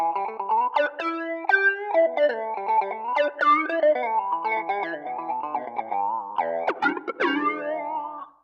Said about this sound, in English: There's this talk box.